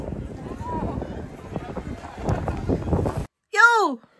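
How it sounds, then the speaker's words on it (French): Wind gusts and rumbles across the microphone at a small outdoor Christmas market, a steady blustery rush over about three seconds that cuts out abruptly, followed by a brief high chirpy sound. "il y a du vent."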